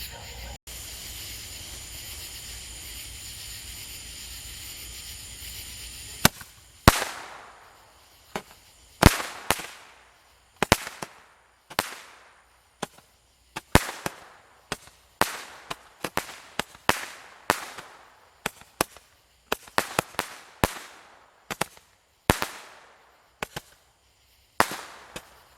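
Fourth of July fireworks: a long fizzing hiss gives way to a rapid string of sharp, loud cracks and pops, irregularly spaced and close by, continuing for many seconds.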